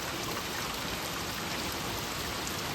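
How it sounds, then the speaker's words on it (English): Torrential rain pours onto a flooded street in Westland, Michigan during a thunderstorm, a dense, steady hiss of heavy rainfall and splashing water that never lets up. "This whole street's flooded."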